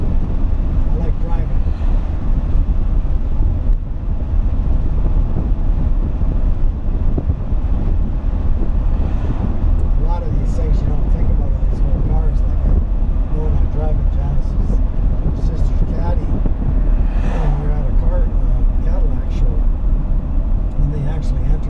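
A 1963 Ford Thunderbird drives along with a continuous low road and engine rumble and wind noise, heard from inside the car while people talk throughout.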